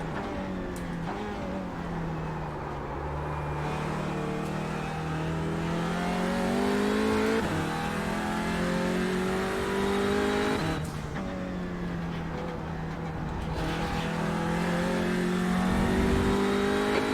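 A race car engine in iRacing, an Audi or Porsche, revs hard and climbs in pitch, dropping sharply at several gear shifts before pulling up again, loud and continuous with no talking.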